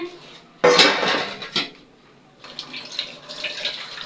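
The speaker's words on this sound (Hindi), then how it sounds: "जिवें देखा जी मैं दाल नू धोनी है" Pots and utensils clatter in a kitchen as lentils are washed in a pot with water, a loud clank near the start, another knock mid-clip, then softer rattling and splashing toward the end.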